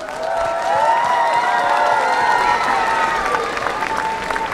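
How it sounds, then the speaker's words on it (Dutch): Warm applause fills Rotterdam city hall for teachers, a sustained wash of many hands clapping with crowd noise and some cheering, while voices and ringing tones linger across it. "Geef ze een warm applaus alsjeblieft."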